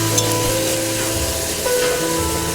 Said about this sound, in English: Give our veggies a little stir and maybe just a shake or two of oil